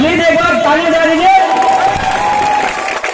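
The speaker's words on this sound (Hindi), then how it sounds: "प्लीज एक बार ताली बजा दीजिए।" Applause from a live audience at a stage show: a voice carries briefly at first, then broad, steady clapping from the crowd fills the space and holds until the end.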